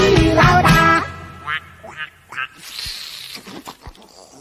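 A voice imitating Donald Duck's quack comes after a sung phrase from an 80s Chinese children's song: a few short, raspy quacks spaced apart, followed by quieter scattered noises.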